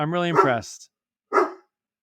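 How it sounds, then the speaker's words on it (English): A house dog barks nearby, one voiced bark followed by a short gap and a second, shorter bark, loud and close against a quiet room. "Pardon my dog here."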